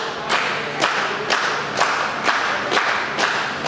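A wrestling crowd gets behind Sandstorm with rhythmic clapping and cheering, a chant-like beat pulsing roughly every half second throughout.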